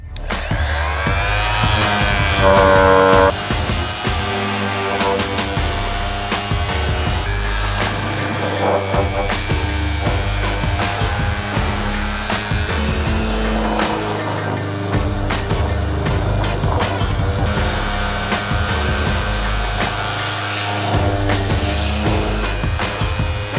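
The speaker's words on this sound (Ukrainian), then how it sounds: "за допомогою нашої шліфувальної машини зробити його гладеньким, як наш стіл" A TA-01-540 vibrating sander works a wooden tabletop at third speed with a steady, continuous buzzing drone that holds nearly constant level throughout, joined by tonal, music-like layers.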